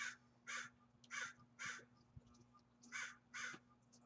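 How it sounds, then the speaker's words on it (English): A crow caws repeatedly outdoors, six harsh calls in uneven pairs, fairly clear against a quiet background with a low hum. "Bird's very active today."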